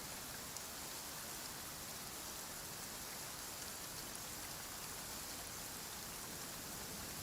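Steady, dense rainfall patters evenly in the game Genshin Impact, a constant hiss of drops with no pauses or voices, holding at an even level throughout.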